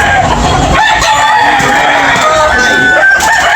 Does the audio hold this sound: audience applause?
no